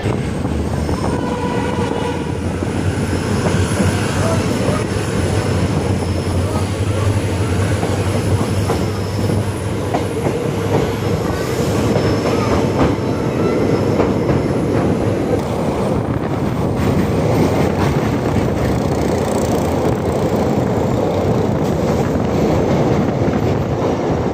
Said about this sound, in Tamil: கடல் மேலே பாம்பன் பாலத்தில் ஒரு ரயில் ஜேர்னி